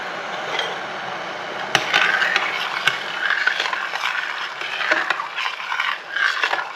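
Hot brine pours steadily into a jar of gherkins for several seconds with a hissy, splashy wash, broken by a couple of sharp clinks, close by.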